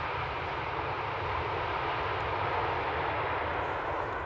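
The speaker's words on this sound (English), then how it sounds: "Saudia flight 933, Saudia cargo arriving from Jeddah." A Saudia cargo plane arriving from Jeddah at Amsterdam Schiphol Airport roars in a loud, steady, broadband jet rumble that holds constant throughout, with no voices.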